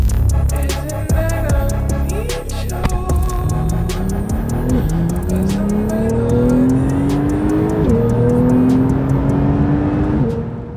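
A Porsche 911 991 Carrera 4S with a 3-litre turbo flat-six drives on a mountain road, engine loud and close, rising in pitch through the gears with quick shift dips between pulls.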